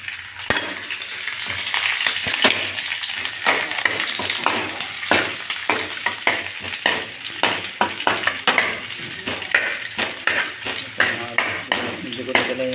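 Onions fry in a wok with a steady, loud sizzle, broken by frequent clinks and scrapes of a utensil stirring against the pan.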